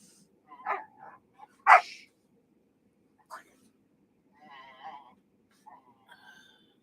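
Playing dogs indoors give short barks and yips, one loud sharp bark standing out, mixed with a person's voice talking nearby.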